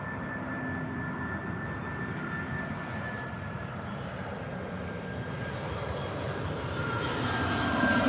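Iberia jet airliner with CFM56 engines at Heathrow, a steady broad engine roar with a faint high whine, swelling slightly louder toward the end, no voices.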